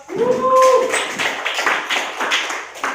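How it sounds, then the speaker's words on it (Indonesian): A group of students applauds in a chemistry classroom with a burst of scattered clapping that is fairly loud and close and slowly thins out, while a voice briefly sounds over its start. "Oke, aplaus."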